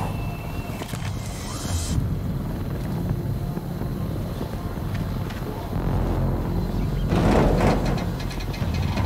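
Helicopter in the VR game Arizona Sunshine 2, a steady low rotor rumble and whooshing wind held throughout, swelling louder near the end.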